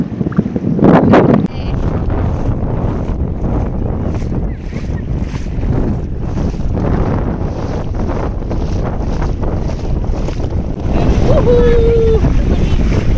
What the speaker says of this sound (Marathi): पूर्ण पाणी भरलेलं आहे आणि आम्ही आता चालत चाललेलो आहोत